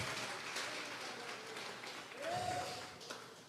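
Congregation applauding during a Sunday church service, a continuous soft wash of clapping from a large group with a brief tonal sound partway through, fairly distant and faint.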